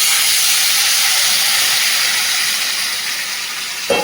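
Water poured onto hot frying vegetables (potato and pointed gourd) in a pan gives a loud, steady steam hiss that holds throughout and eases slightly toward the end, followed by a short clatter.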